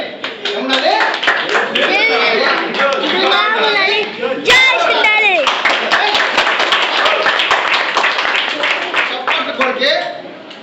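Energetic speech from a presenter at a motivational seminar is joined by the audience's clapping, rhythmic and fairly close, running under and after the talking.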